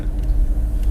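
A Chevrolet Camaro SS engine idles with a deep, steady low rumble, close and loud, with no voices over it.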